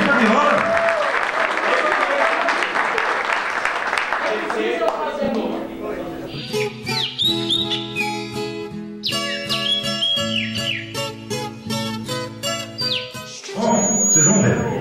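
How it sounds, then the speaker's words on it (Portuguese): An audience at a viola music gathering breaks into loud, dense applause that fades after a few seconds, giving way to bright plucked viola melodies. "Cadê as palmas?"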